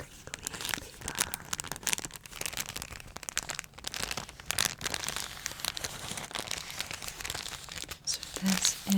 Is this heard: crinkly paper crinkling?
yes